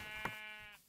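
A single short, wavering sheep bleat from Minecraft, clear and close, followed by a brief faint chime.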